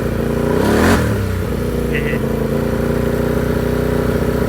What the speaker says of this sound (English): I'll flip the throttle a little bit here for you guys.